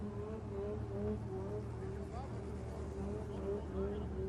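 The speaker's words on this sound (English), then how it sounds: "So celebratory donuts" An autocross race car spins celebratory donuts on a dirt track, its engine droning and wavering in pitch at a moderate distance, faint overall, with crowd or announcer voices mixed underneath.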